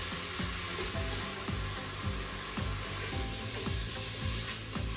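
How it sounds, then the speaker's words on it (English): Bacon frying in olive oil and butter with garlic for spaghetti carbonara, a steady loud sizzle with repeated clattering stirs of a utensil against the pan, no voices. "However, I'm going to add the bacon now."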